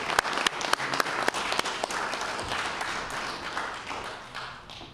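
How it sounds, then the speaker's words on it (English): A legislative assembly chamber full of people applauds, with crisp individual claps up front that settle into a steady patter before fading out. "I wonder if we can give them a round of applause."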